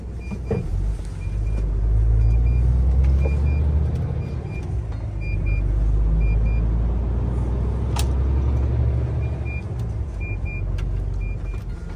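A truck hauling a curtain-sided trailer pulls away from a steel plant loading area, its engine a steady loud low rumble with brief higher whines and a sharp click midway, no talking.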